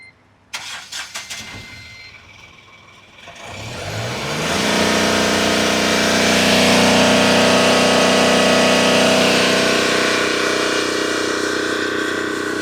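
A loaded Ashok Leyland Bada Dost truck engine cranks with a few rapid starter pulses, catches, then climbs into a loud, steady, sustained rev heard up close, with no voices.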